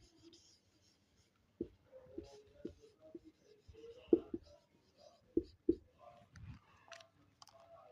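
A pen or marker writes a selling price during a maths lesson, giving faint scratches and sharp taps on a board or page in a quiet room, with soft breathy voice traces in the background.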